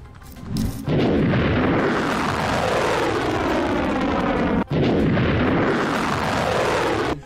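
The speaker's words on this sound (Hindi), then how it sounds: "मिसाइल को हवा में ही मार गिराने के बाद सायरन और धमाके की आवाज सुनी गई।" Over Tel Aviv, a loud wailing air-raid siren rises and falls over a heavy rumbling roar, broken by one sharp blast from a ballistic missile interception partway through before the wail resumes.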